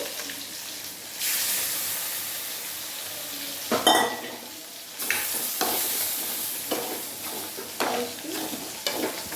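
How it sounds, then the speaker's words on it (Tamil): Tomatoes stirred in a pan for Kerala fish curry: a steady, hissing sizzle that swells when the pan is worked, with a few louder scraping bursts of the spoon, close by and without speech. "நல்லா கிண்டி விட்டுக்கணும்."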